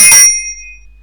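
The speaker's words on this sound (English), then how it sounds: "the bell went" A school bell gives a single bright metallic strike that rings on with a slowly fading shimmer for about a second, loud and close.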